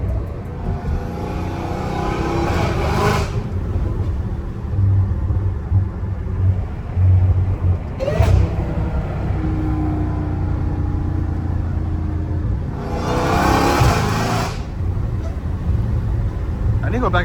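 A Dodge Challenger Hellcat Redeye heard from inside the cabin, a deep steady engine rumble punctuated by three loud rising revs, with a voice talking under the engine noise.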